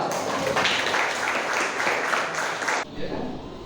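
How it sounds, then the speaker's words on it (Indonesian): An audience at an academic coaching session claps together in a steady burst of applause lasting a few seconds, then it cuts off abruptly. "tepuk tangan dulu untuk coba"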